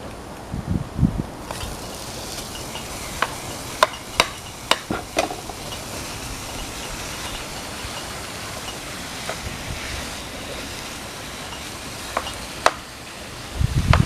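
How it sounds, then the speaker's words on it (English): Ground beef cooks in a pan for canning, giving a steady broad sizzle and crackle with scattered sharp pops and occasional stirring scrapes, close and fairly loud throughout, no voices. "While we have our beef cooking"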